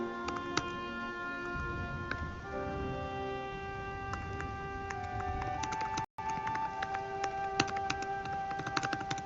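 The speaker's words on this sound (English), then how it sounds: "Damn, you have a loud ass keyboard." A loud computer keyboard clatters with rapid, irregular key taps, close up over steady background hum, with no one speaking.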